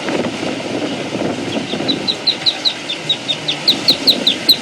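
A bird chirping in a rapid series of short, bright, evenly spaced calls over a dull rumbling background, growing more regular and prominent as the sequence goes on.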